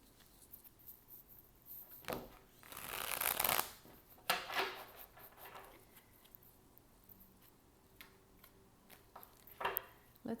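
Tarot cards shuffled by hand in a quiet room, a long riffling burst in the middle followed by shorter flicks and taps, close and fairly soft with no talking.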